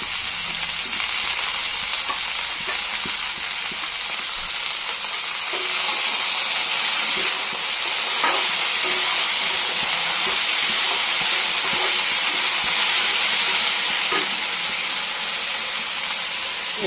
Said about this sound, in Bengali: ভাজাটা আমার আলুর সাথে পেঁয়াজটা ভাজা হয়ে গেছে, দেখতে পাচ্ছেন একটু লাল লাল হয়ে গেছে।